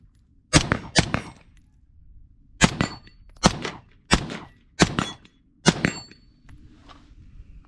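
A suppressed CZ Bren 2 SBR rifle fires seven sharp, close reports in uneven spacing, two quick pairs then single shots, each cracking loudly and decaying fast, with no talk between them.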